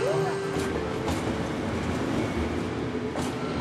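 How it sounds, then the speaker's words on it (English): Busy station ambience at Glasgow Central with a steady rumble of trains, a brief metallic wheel squeal near the start, and faint voices mixed into the background. "all the crazy noises of the train station are just really comforting for you"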